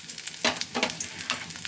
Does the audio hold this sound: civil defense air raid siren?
no